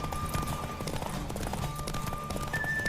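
Hooves gallop steadily in The Witcher 3, a fast rhythmic clip-clop that runs the whole time under a dense game soundscape, with a brief voice in the mix.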